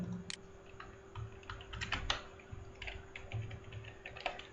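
Someone types computer code on a keyboard, quiet clicks and key taps coming in irregular bursts close by, with no one speaking.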